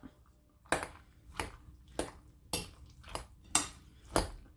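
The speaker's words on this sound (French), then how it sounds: "Donc je mets l'ail que j'ai écrasé. Et là je vais venir mélanger." A utensil scrapes and knocks rhythmically against a bowl while crushed garlic is stirred into a cauliflower mixture, six evenly spaced sharp clinks, close and fairly quiet, with no talking.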